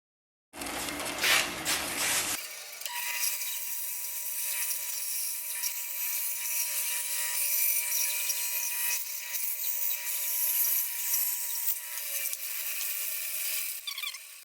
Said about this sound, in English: I'm going to actually do a better job on my bandsaw.